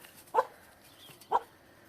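A dog on a farm with horses gives two short, sharp barks about a second apart, heard from a moderate distance on a cold morning outdoors.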